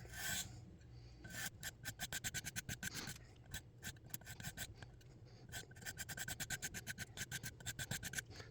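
A knife edge is drawn repeatedly across a PDTools silver sharpening stone, making a rapid series of close, rhythmic raspy scrapes with a brief pause partway through.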